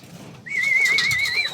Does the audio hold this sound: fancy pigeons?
yes